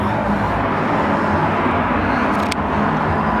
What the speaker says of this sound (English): looks like we're right by the highway. Sounds like we're by a bus.